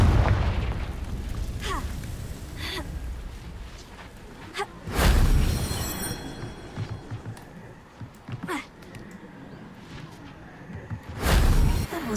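Fire-spell explosions in the Hogwarts Legacy video game burst out as several loud booming blasts spaced across the stretch, with whooshing tails and game ambience between them.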